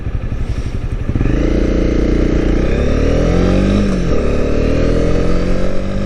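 A Honda CB250R motorcycle on a ride, its single-cylinder engine droning loud and close, rising in pitch as it accelerates, easing off briefly, then pulling again, with wind noise and no talking.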